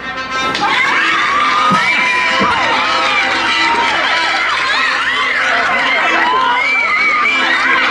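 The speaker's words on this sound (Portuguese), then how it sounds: "Salve de palmas." A loud crowd at a Brazilian DJ battle event cheers, whoops and shouts continuously, with children's yells and chatter mixed into the dense, steady roar.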